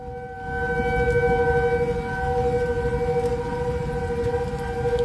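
A steady outdoor tornado warning siren in New Albany, Indiana drones on with sustained tones, wavering slightly, over a rumbling low background; no voices.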